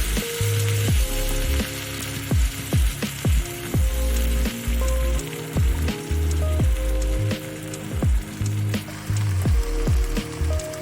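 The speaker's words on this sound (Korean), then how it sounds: "재료들이 타지 않도록 주의하면서 볶아주세요." Curry udon ingredients, meat and carrots, stir-fry in a pan with a loud, close sizzle, punctuated by regular scraping and tossing strokes of a utensil, with no talking.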